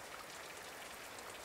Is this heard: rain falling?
yes